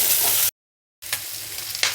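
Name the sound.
onions frying in oil in a pan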